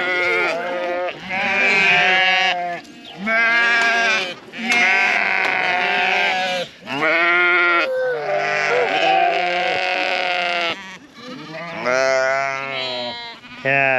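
Sheep bleat on a farm in spring after a spell of constant rain, loud, close and overlapping: long wavering calls in a steady run, one after another, with hardly a pause.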